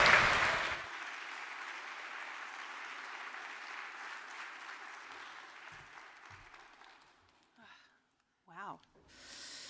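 Audience applause at a social innovator showcase bursts out briefly at the start, then dies down into a soft lingering patter with quiet room noise and a few scattered rustles and faint voices.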